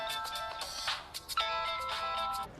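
A phone ringtone plays loud and close, a bright electronic melody of repeated tonal phrases with a short break in the middle before it resumes and then stops.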